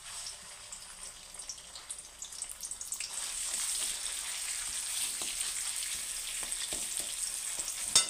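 Mashed bean paste sizzles in a hot wok, a steady crackling hiss that swells after a quieter start and carries on alone with faint scrapes and pops.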